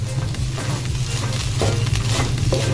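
Seasoned fried rice with Fun Chow Rice mix is stirred and tossed in a pan, giving a steady sizzle with a spatula scraping through it, loud and close with no talking.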